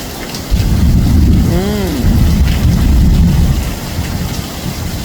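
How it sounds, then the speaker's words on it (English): Heavy rain pours steadily on a hillside village in Jamaica, a dense, continuous roar that stays loud from start to finish, with a brief tonal whine rising through it partway. "A rainy day in Jamaica."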